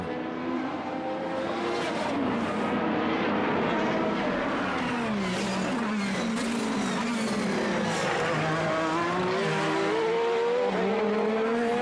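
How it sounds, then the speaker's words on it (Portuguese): IndyCar race cars lapping the Detroit Grand Prix street circuit during qualifying, engines screaming loud and continuous with rising and falling pitch as cars accelerate and pass, faint commentary voices underneath. "Carros em ação."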